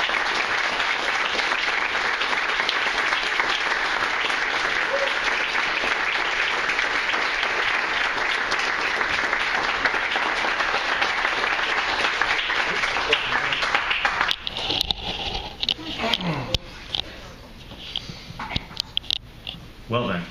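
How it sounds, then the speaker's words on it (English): An audience applauds after a short story reading at a literary event, with dense, steady clapping that fills the room for about fourteen seconds and then thins out into scattered claps and murmurs. "one more round of applause for Vojislav Pejović"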